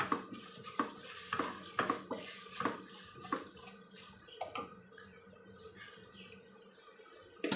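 Cumin, coriander and sesame seeds fry in hot oil, giving a soft, faint sizzle broken by repeated clicks and light scrapes of stirring in the pan.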